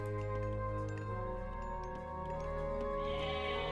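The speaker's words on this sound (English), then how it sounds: "And we've got some goats being summoned back." Goats bleat in the Age of Mythology strategy game, a few faint calls over a steady droning game soundtrack with light chiming tones.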